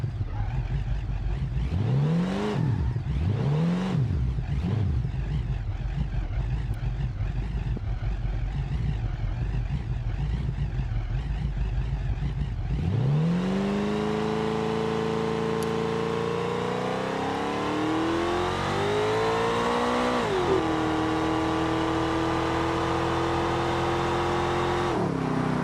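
A drag car launches in the BeamNG driving game with manual shifting. A few short revving bursts give way to a long, loud engine howl that climbs steadily, with gear changes audibly dropping and re-raising the pitch; no talking.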